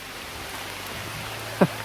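Rain falls on trees outdoors as a soft, steady hiss, with one brief louder knock near the end.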